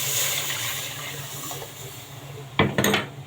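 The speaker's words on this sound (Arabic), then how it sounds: "هنحط له دلوقتي الحليب" Milk is poured into a pot of toasted spaghetti, a short splashing gush near the end following a soft background hiss from the pot.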